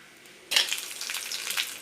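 Oil crackles and sizzles in a hot pan before adding dried red chillies, starting abruptly and holding a steady, close hiss throughout.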